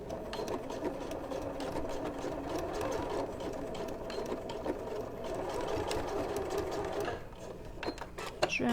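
A sewing machine stitches elastic onto the waistband of a woven skirt, a steady rapid mechanical whir with a fast needle rhythm running for several seconds before slowing near the end.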